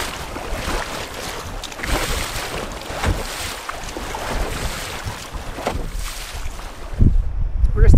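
Wind gusting over Lake Nipigon during a wilderness paddling trip, with rough water and swells: loud, buffeting wind noise in irregular bursts, mixed with water splashes and a brief thump near the end.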